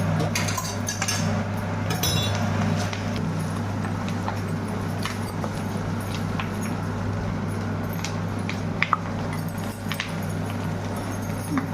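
Boiled potatoes being mashed for a banana flower pakora mixture, with faint scattered clinks of a utensil against the dish over a steady low kitchen hum.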